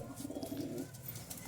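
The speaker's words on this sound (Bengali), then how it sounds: "পশ্চিমা কালশিরা, খুব সুন্দর পায়রা" Paschima Kalshira pigeons cooing, a soft, low rolling coo repeated in quick pulses, close and quiet, fading out after about a second with no talk.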